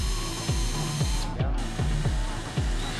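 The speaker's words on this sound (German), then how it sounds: "Damit die Platte sich später nicht mit Splittern rächt, schleift Paul die Kanten ab." A power tool sands the edges of a wooden board for a small garden shed, giving a continuous buzzing whine with a rhythmic pulsing about twice a second, close and loud throughout.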